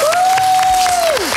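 A short, loud burst of clapping from a talk show studio audience, with a sliding whistle-like tone heard above the claps.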